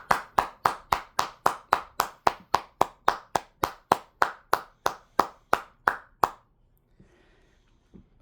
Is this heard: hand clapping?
yes